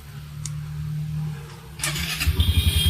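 A second-hand motorcycle at a Bangladeshi used-bike dealer cranks and starts, then settles into a quick, throbbing idle with short blips of throttle, close and fairly loud.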